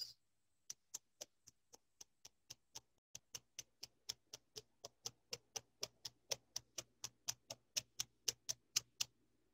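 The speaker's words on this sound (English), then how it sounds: "You hear the clocks ticking" Clocks tick in a steady, regular rhythm, each crisp tick evenly spaced and fairly quiet in an otherwise still, silent room, with no voices.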